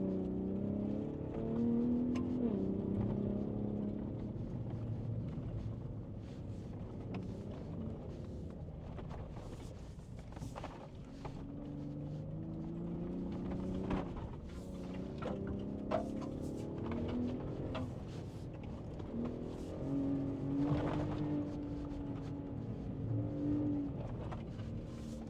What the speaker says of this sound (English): now we're gonna go full tilt in Baja mode, and all traction control is off